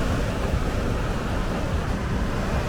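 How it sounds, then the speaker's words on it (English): Oregon coast ocean waves surge through a collapsed sea cave with a geyser-like eruption, heard as a loud, steady roar of rushing water and wind with no distinct breaks. "it makes a geyser-like eruption"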